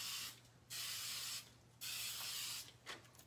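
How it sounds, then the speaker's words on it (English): Three bursts of spray adhesive hiss close by onto the back of a stencil, each lasting about a second, with short pauses between them. "I'm going to spray the back side of my stencil"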